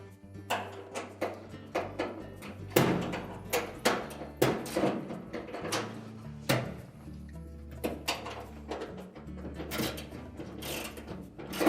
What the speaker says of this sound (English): we can use our socket and ratchet to